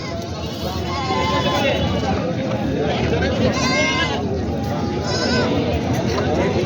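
Many goats bleat repeatedly over a dense, noisy crowd of animals and murmuring people at a goat market in Parbhani, the calls overlapping from close and farther off.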